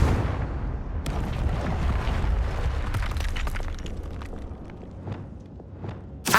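A Confringo blast spell goes off in Hogwarts Legacy, a deep rumbling boom that rolls on across the whole stretch, with scattered bursts and crackles over it and a sharp new hit right at the end.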